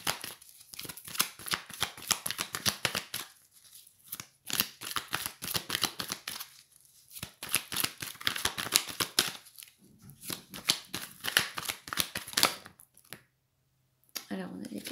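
Oracle cards are shuffled by hand in rapid, close riffling runs of dense clicking flutters, broken by short pauses, with a few sharp snaps near the end.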